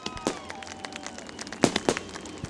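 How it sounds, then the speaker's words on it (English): Fireworks go off over a speedway during a sprint car season championship night, a scattered run of sharp pops and crackling bursts at varying distances, some louder bangs standing out among fainter crackles. "I didn't know we were going to have such a fireworks spectacular tonight."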